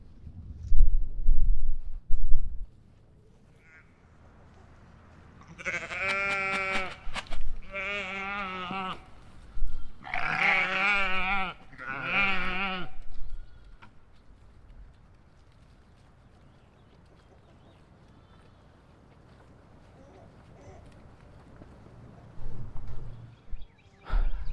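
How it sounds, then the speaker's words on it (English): Several loud, wavering sheep bleats come in a cluster, one after another, with quieter stretches of outdoor noise and some footsteps around them. "Come on, sheep."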